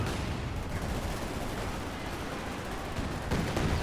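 A Katyusha rocket barrage in Company of Heroes 2 produces a dense, continuous roar of rapid rocket launches and impacts, loud and unbroken for several seconds, with a sharper burst near the end.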